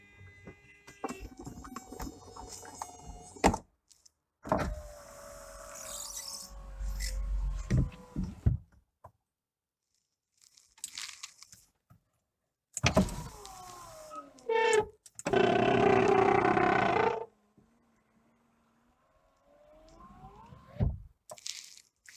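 A Porsche 911 996 cabriolet's convertible roof mechanism grinds, creaks and whines in several slow, strained bursts with pauses between, loud and close, sounding faulty and laboured.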